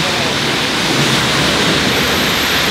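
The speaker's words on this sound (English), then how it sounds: "And even thunder and lightning." A heavy, constant roar of rain fills the scene, with a low rumbling undertone of distant thunder during a thunderstorm with lightning.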